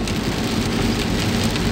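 Heavy rain drums on the roof of a camping car, a dense, steady patter that fills the space with a low rumble beneath, loud and continuous with no voices.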